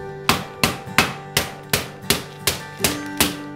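Turkey meat being pounded thin with a mallet, about a dozen sharp, evenly spaced thuds in a steady rhythm, close and loud with no talking.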